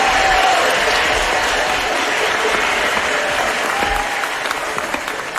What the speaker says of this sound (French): Voici nos premiers concurrents, on les applaudit bien fort.